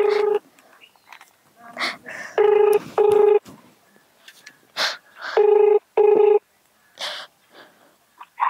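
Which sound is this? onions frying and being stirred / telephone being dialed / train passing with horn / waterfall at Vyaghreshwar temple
telephone being dialed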